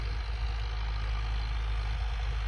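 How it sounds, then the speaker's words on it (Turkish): A Massey Ferguson 3075 tractor ploughing a field with a four-furrow plough runs its engine in a steady, heavy low drone that holds constant and loud throughout, with no talking. "Sivas Kangal Massey Ferguson 3075'te tarla sürüyor."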